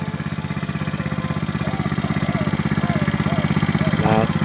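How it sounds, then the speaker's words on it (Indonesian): A small engine-driven water pump chugs steadily beside a river, pumping water up to rice paddies; close, loud and evenly pulsing throughout, with a voice talking faintly underneath. "supaya mesinnya itu dapat stabil, tetap hidup, dapat menyedot air ya, dapat mengangkat air hingga ke area persawahan kita"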